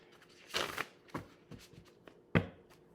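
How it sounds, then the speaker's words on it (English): A deck of tarot cards being shuffled by hand, with several quick riffling bursts spaced irregularly over a few seconds, the last one sharpest; close and fairly quiet, with no talking. "let me get a real good shuffle"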